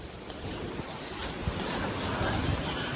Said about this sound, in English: because it's so windy out here.